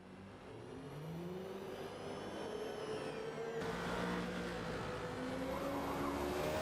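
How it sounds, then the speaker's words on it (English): LMP prototype race car in a racing video game limping back to the pits, its engine whining steadily with shifting tones, loud and continuous with no talk. "LMP Abyss is having to limp it back to the pits, unfortunately."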